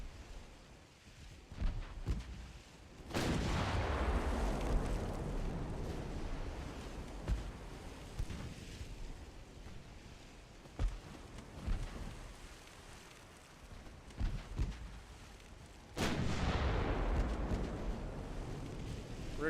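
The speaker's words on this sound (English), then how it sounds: "Ricochets from the secondaries." Naval secondary guns fire in an Ultimate Admiral Dreadnoughts sea battle, with ricochets: two heavy booming blasts roll out over a constant rumbling din of gunfire and water, with sharper cracks scattered between them.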